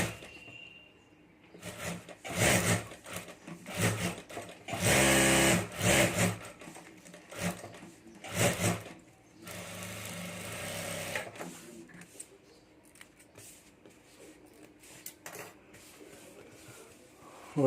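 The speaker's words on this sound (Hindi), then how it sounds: "और अब यहाँ ऊपर हमें सिलाई कर देनी है।" A sewing machine stitches a homemade handbag in bursts, with loud runs of rapid mechanical whirring and clatter separated by short pauses and handling noise, close up and without talk.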